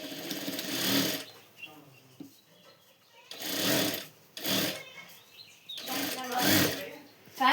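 Sewing machine stitching katori blouse pieces together, running in three or four short whirring bursts separated by pauses, fairly close.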